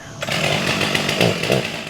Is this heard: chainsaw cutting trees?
yes